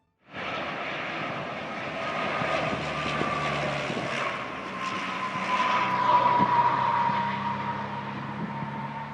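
A Pregnant Guppy, the enlarged cargo aircraft, takes off with a loud, steady engine and propeller roar that builds slightly over several seconds, with no talking.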